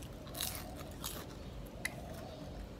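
Faint, quiet crunching as fried dried anchovies (dilis) are chewed, with a few soft crisp bites spread out over a low background and no speech.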